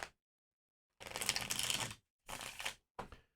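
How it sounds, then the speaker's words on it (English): A deck of tarot cards is shuffled in three quick riffling bursts, a longer one followed by two shorter ones, crisp and close with silent gaps between. "let's do one more shuffle"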